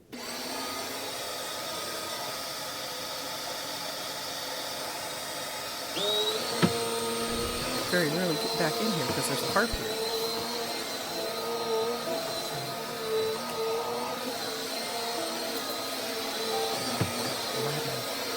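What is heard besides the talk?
vacuum cleaner running while cleaning harp practice corner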